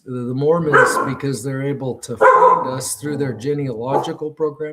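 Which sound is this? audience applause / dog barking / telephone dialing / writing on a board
dog barking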